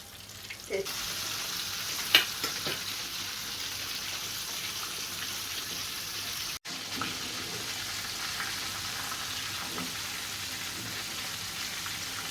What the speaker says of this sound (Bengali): খুবই অল্প আঁচে এই ক্রিস্পি চিকেন ফ্রাই ভাজতে হয়